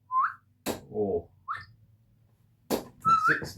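A played recording of human whistling sounds at a darts practice session. Short rising whistle notes come in separate bursts with gaps between them, fairly clear and moderately loud, mixed with brief bumps and clicks.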